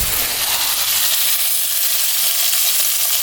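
Chicken sizzles and crackles steadily in a hot pan as it cooks with rice and peas, a dense, even frying hiss that continues without a break.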